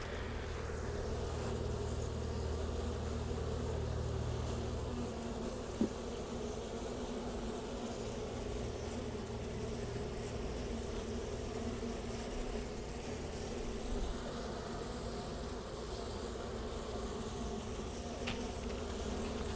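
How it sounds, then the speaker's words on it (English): Honey bees buzzing around an open hive during a routine inspection of the honey super and brood box, a dense, steady drone close by that fills the whole stretch with no talk. "the bees are trying to get under the frame"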